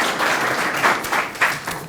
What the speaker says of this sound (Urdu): ان کے لیے بھی تالیاں بجاتے ہیں